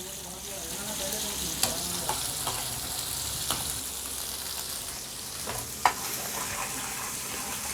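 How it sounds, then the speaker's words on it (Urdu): Garlic ginger paste fries in hot ghee in a non-stick pan for a dal tempering, giving a steady close sizzle broken by a few sharp stirring clicks. "اب ہم اس میں ڈال دیں گے لہسن ادرک کا پیسٹ"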